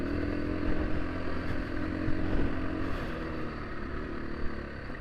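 A 2024 Husqvarna FE501S dual sport motorcycle runs with a steady, throaty single-cylinder engine drone, close and continuous with slight swells, no talking.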